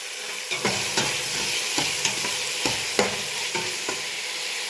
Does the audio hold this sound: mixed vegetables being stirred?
yes